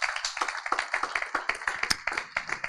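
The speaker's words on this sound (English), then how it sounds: "So a round of applause for all you guys for coming out tonight." Audience applause at a founder showcase event, a brief burst of dense hand clapping from a crowd, fairly close and steady throughout.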